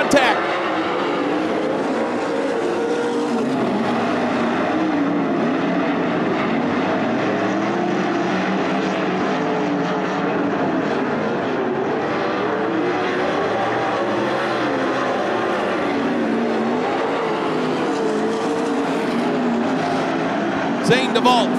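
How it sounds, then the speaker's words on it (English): 410 sprint cars race at Attica Raceway Park, their engines roaring in a dense, sustained drone that holds steady throughout, with a commentator talking over it. "DJ Foose with an excellent start down the front stretch into 1 and 2."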